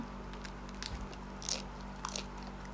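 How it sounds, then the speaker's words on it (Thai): Close, crisp bites into hot, crispy Vietnamese pizza crust on rice paper, a few crunchy snaps around one, one-and-a-half and two seconds over a steady low background hum. "อยากให้ทุกคนฟังเสียงแป้งมากๆเลย ก็คือต้องกินตอนร้อนๆนะคะ จะได้กรอบอร่อยมาค่ะ"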